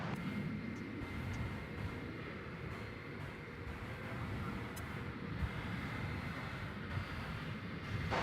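A jet airliner, American flight 2390, takes off from runway 18 Left at Dallas Fort Worth airport at night, a steady broad engine roar heard at a distance with continuous rumble throughout.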